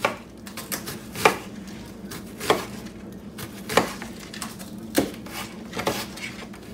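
Carrots being chopped on a cutting board, with a knife striking the board in sharp, evenly spaced chops roughly every second over a soft background, close and without talk.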